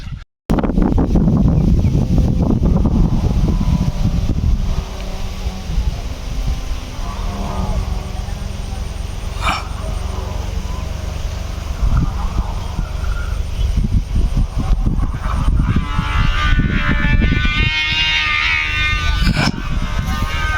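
Strong gusting wind from Cyclone Remal buffets the microphone with a loud, continuous roar. It sways in intensity, and a few faint voices rise now and then.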